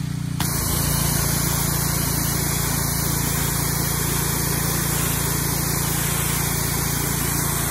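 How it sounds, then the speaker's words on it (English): A Ryobi 2900 psi gas pressure washer blasts a steady, loud hissing spray of water from its nozzle, with the engine droning continuously underneath, close by and unbroken. "Check our spray nozzle."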